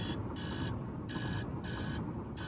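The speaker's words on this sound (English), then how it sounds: "alarm is actually about to wake her up" An alarm clock beeps in regular electronic bursts, about three pulses in quick succession, over a low droning background hum inside a car on a road trip.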